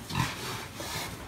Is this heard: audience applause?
no